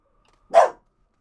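One dog gives a single sharp, loud bark at someone outside, close by and alone, with silence before and after.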